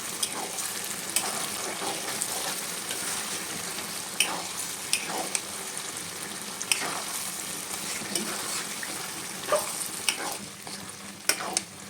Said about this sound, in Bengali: সেটা করে জাল দিয়ে মিক্স করে দেবো